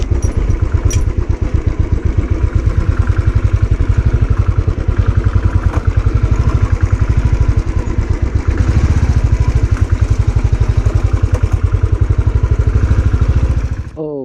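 A motorcycle on a trip to Gandikota over rocky roads keeps up a loud, close, continuous engine drone with a fast pulsing thrum. The engine note stays steady almost the whole way through.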